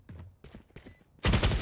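Valorant gunfire: a few short, separate shots spaced apart, then a sudden loud, sustained burst of noise at the end.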